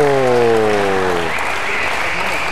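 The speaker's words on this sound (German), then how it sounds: "Sie würdigen es doch mit Applaus." Applause from the audience at a wrestling show, steady clapping throughout, with a sustained voice tone over the first half that fades out as the clapping carries on.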